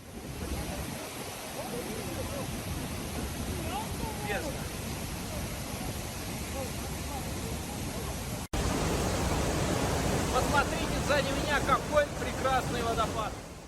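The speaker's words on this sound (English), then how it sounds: "Look, what a beautiful waterfall is behind me." Iguaçu waterfall in Brazil roaring as a broad, constant wash of falling water, loud and close, with a sudden jump in level partway through as the noise grows fuller.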